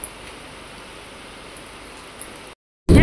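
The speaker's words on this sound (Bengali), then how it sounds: "ভালো বৃষ্টি নামছে এদিকে।" Heavy rain falls steadily as a dense, even hiss for about two and a half seconds, then cuts to brief silence before a loud burst of noise at the end.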